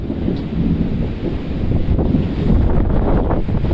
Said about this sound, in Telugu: మొదటిసారిగా అయితే వర్షం వస్తుంది ఈ సంవత్సరంలో.